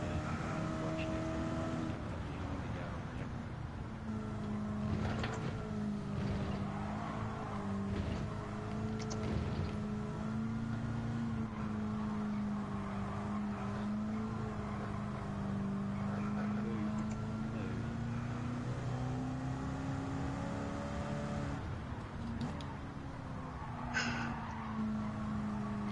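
Race car engine in the video game Gran Turismo 7, a steady sustained drone with shifting pitch throughout the lap, loud and continuous, with talk layered over it.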